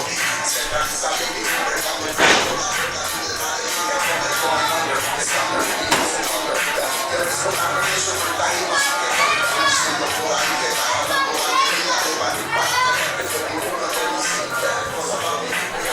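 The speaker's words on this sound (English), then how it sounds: "The crowd comes alive for Taino. Making his way to the ring" A wrestling crowd at an AMP Summer Fights show cheers and shouts steadily as Taino walks to the ring, a dense, lively mix of voices and children's shouts filling the hall.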